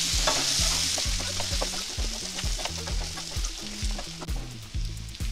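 Spicy mutton fry with lemon juice sizzles in a pan as it is stirred, a loud steady hiss with scraping spoon strokes against the pan, alongside a rhythmic melodic background tune.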